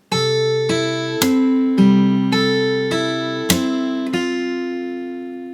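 Fingerstyle acoustic guitar picking the intro of a song, about eight clear plucked notes and chords in a slow, even rhythm, each ringing into the next, close and alone without talking.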